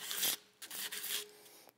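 Sandpaper rubbed back and forth across a Ruger single action grip frame, a few close, dry rasping strokes with brief pauses between them.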